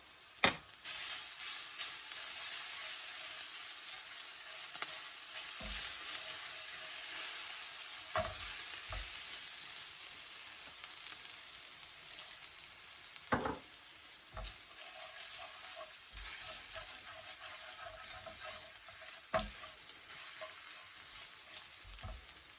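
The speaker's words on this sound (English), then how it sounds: "then add the cumin seeds and pepper." Grated garlic, cumin seeds and pepper fry in a pan for chicken 65, giving a steady close sizzle throughout with several sharp knocks and scrapes of a spoon against the pan, no voices.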